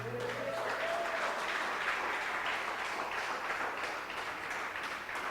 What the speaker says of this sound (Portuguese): Eu, se fosse você, dava um aplauso ao Senhor.